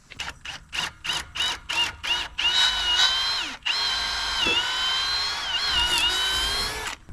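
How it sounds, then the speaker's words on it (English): A power drill bores all the way through wood while a gate is being installed, first in a string of short bursts, then in one long steady whine that rises and falls as it works through. "that time we drilled all the way through"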